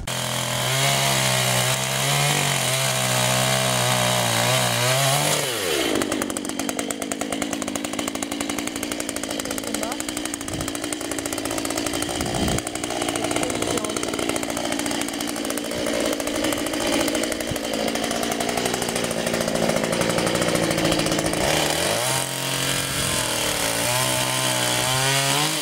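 A chainsaw cuts branches while pruning an old goblet-trained apple tree, running loud and steady for most of the stretch with revving at the start and end.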